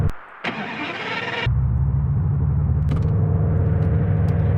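Video game Lamborghini engine straining uphill, starting with a short rev burst, then settling into a steady, loud low drone that holds on to the end with a second rev swell midway.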